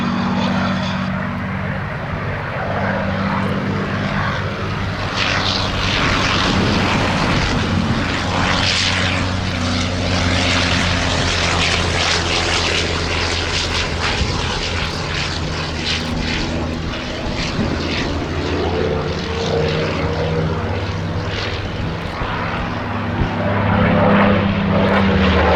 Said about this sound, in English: Another very famous British fighter of the previous global conflict getting airborne underneath it, the Sopwith Camel.